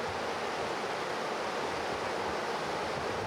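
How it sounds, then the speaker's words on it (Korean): Rushing water of the Yoshida River, a clear tributary of the Nagara flowing through the town of Gujo Hachiman, Japan, makes a steady, dense broadband roar that holds constant throughout with no voices. "어디서나 물소리를 들을 수 있다는 구조 하치만"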